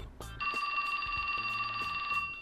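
A mobile phone rings in the video game 428: Shibuya Scramble as a steady electronic tone that sounds continuously after a brief click, clear and close.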